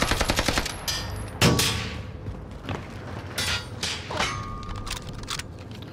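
Gunfire in the battle royale video game Warzone: a rapid burst of automatic shots opens, followed by single loud booming shots and scattered further gunfire at varying distances, with no talking.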